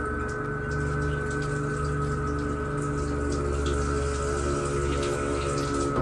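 Water runs steadily from a tap to bathe a cat, a constant close hiss and splash with a low pump-like hum beneath it and no voices.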